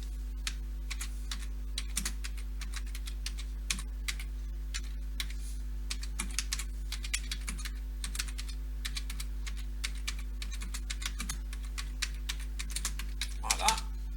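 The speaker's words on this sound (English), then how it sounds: "You just type in your message that you want to say" Close, quick clicking of keys on a computer keyboard as a message is typed, in irregular bursts over a low steady electrical hum.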